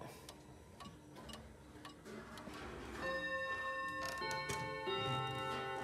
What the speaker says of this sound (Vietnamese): Ghé tay vào thì có thể nghe rõ tiếng máy đang là hoạt động nhá.